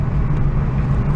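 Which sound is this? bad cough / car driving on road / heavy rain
car driving on road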